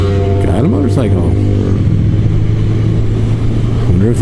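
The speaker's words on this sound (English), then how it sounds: "Guy on a quad, guy on a motorcycle." Quad bike and motorcycle passing on a road through hilly country, loud engine drone with rising revs heard up close from a riding motorcycle, wind rush throughout and a voice talking over it.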